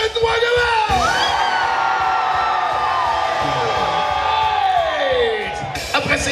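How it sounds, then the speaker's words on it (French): A big crowd at an outdoor summer festival in Mauricie, Quebec yells and whoops together at full volume, a sustained roaring mass of voices that stays loud for several seconds before tailing off. "Avec la gang de Shawinigan qui vont crier bien fort!"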